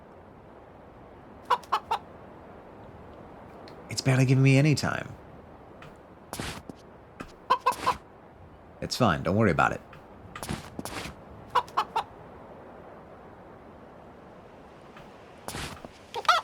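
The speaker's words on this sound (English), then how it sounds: "This is the most paranoid rooster I've ever seen in my entire life" A twitchy rooster in a video game clucking in short, scattered bursts with some longer squawking flurries, close and fairly loud, while a person talks intermittently in between.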